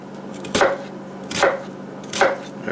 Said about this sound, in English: And then start chopping.